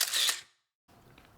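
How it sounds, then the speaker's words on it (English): Single-lens reflex camera shutter fires once at a portrait shoot without flash, a sharp close mechanical click and clack followed by a brief silence and quiet room tone. "Let's just take a photo and see how this looks."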